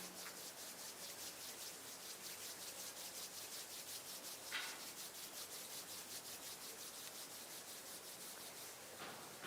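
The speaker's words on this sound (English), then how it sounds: "bring the palms of the hands together at chest level and rub them gently against each other" Palms of the hands rubbing gently against each other at chest level, a soft, steady, faint swishing friction that runs continuously with no talking.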